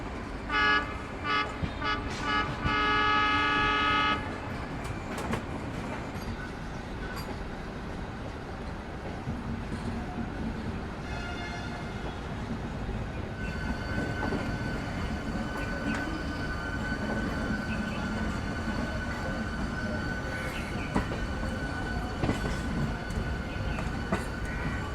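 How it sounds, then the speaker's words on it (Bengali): Digha Tamralipta Express pulling out of Howrah on its way to Digha: a few horn toots at the start, then a steady, close rumble of the carriages rolling on the rails. "ট্রেন তো আমাদের একদম নির্দিষ্ট সময় ছেড়ে দিল"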